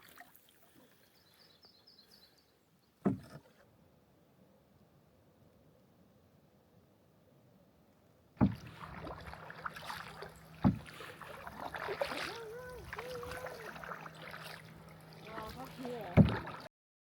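Canoe paddled on Maligne Lake, with soft water swishes and splashes near the boat; quiet stretches give way to louder paddling with a steady low hum, bird calls and occasional talk mixed in.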